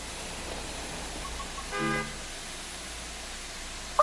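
A vehicle horn gives a single short, two-tone beep in a railway simulation, moderately loud against a steady low background hum, followed by a brief click.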